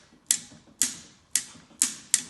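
Five sharp metallic clicks from a torque wrench set to 15 foot-pounds tightening bolts on a VW air-cooled engine during a build, evenly spaced about half a second apart, close and clear with no talk.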